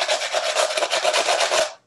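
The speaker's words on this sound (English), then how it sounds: "picking out cigar boxes that we had to hit" A wooden cigar box played as a percussion instrument, giving a rhythmic, raspy scraping texture with quick pulses that runs steadily for under two seconds and then stops, heard alone.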